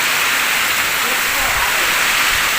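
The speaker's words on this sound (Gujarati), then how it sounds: "કીધું વરસાદ ચાલુ થઈ ગયો" Heavy monsoon rain pours down as a loud, dense, continuous roar with no break from start to finish.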